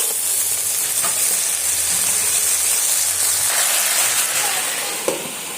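Yardlong beans frying in a covered wok over low heat give off a steady, close sizzling hiss, with a soft knock near the end.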